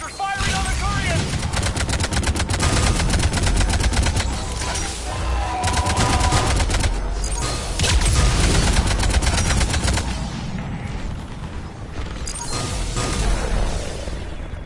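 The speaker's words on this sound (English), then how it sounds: "Harvester's firing on the Turians!" Sustained heavy automatic gunfire from a harvester attacking Turian forces in the Mass Effect 3 video game, with dense rapid bursts, crashing impacts and battle noise continuing loudly throughout.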